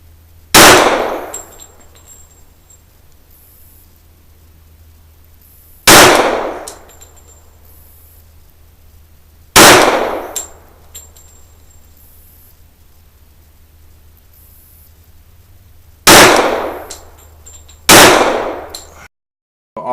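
Glock 41 MOS pistol in .45 ACP firing 230-grain MagTech rounds at steel targets on a range: five loud, sharp shots spaced a few seconds apart, each with a ringing metallic ping from the struck steel.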